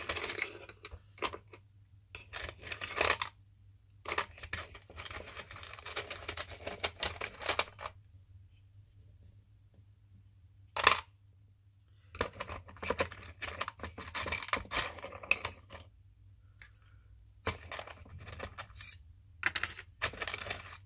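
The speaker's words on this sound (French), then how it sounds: "Je suis en train de tout déballer." Decoration items are unpacked by hand at close range, giving bursts of rustling, scraping and clattering knocks separated by quiet gaps, with one sharp clack partway through and no speech.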